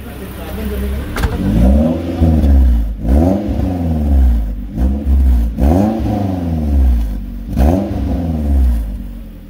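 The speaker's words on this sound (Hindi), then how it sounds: "ये आप सुन सकते हो कि जो यहाँ पे आपको स्ट्रेट पाइप एग्जॉस्ट मिल जाता है उसकी आवाज़ कैसी यहाँ पे रहेगी" A modified ex-police Maruti Gypsy rally build revs hard through a straight pipe exhaust, loud and close, with four repeated throttle blips that rise and fall in a steady cycle.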